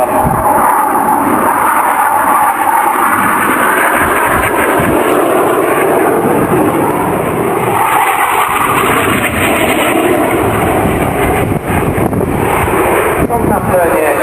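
A display aircraft flies at the Duxford spring air show, its engine drone loud and sustained over buffeting wind noise on the microphone, rising and falling slightly as it manoeuvres overhead.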